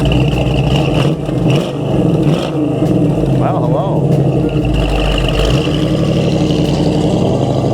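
Engine of a loud 1973 Dodge Challenger Rally 340 Mopar V8, revving up in bursts over a rough idle with some clatter, close and loud, while someone speaks briefly.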